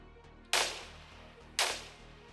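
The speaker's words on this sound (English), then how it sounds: "that was due to the arquebusiers who fired on him and killed him" Arquebusiers firing guns in the Fantastic Battles 2 video game: two sharp gunshot cracks about a second apart, each with a short decaying tail over a quiet low background hum.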